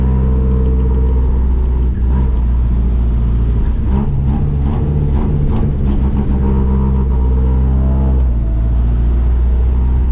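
A Magirus-engined Otokar M2000 bus drives along, its diesel engine rumbling loud and close with steady harmonic drone, rising and falling slightly as it revs.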